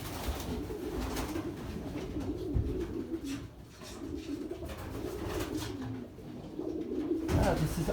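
Pigeons cooing inside a loft, soft repeated coos rising and falling close by over a low background murmur, with people talking in the room at times.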